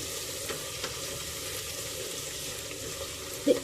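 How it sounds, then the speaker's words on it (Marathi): Ginger and garlic sautéing in a pan until pink for a Hyderabadi mutton korma, a steady moderate sizzle with light scattered crackles and a spoon tap near the end, no speech. "आलं आणि लसूण आपल्याला गुलाबी रंग येईल इतकं परतून घ्यायचं आहे"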